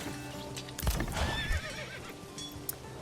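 Horse in the Manor Lords village-building game whinnies loudly with a rising and falling call, while hooves clip-clop over a steady game backdrop of ambient sounds.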